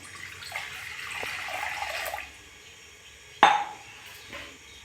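About a glass of water splashes and trickles into a pan for about two seconds while making sugar syrup, followed by a sharp metallic clank of a pan and quieter kitchen noises.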